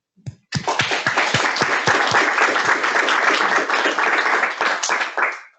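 Lecture audience breaking into sustained applause after an AI in science and engineering talk, many hands clapping steadily and loudly for several seconds after a brief faint start, then tapering off at the end.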